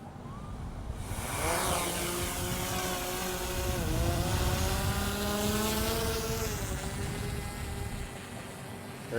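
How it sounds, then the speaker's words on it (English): A drone lifts off and flies away on an automated mission, its steady buzzing whine rising in pitch at takeoff and then holding loud and continuous near the microphone, with no talk over it. "So with the drone on its automated mission"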